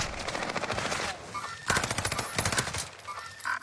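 Rapid automatic gunfire from the video game Call of Duty, dense bursts of rattling shots in two main stretches with brief gaps, loud and close.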